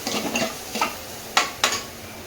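Seeds of cumin and mustard, tempered in a pan for a bajra-flour methi bhaji, being stirred with a spoon: soft scraping strokes over a faint sizzle, with two sharp scraping clicks near the end, close and fairly quiet.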